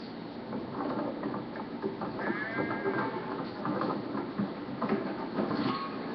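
Sheep bleat now and then over a busy farmyard background of shuffling and clattering hooves, with no one speaking.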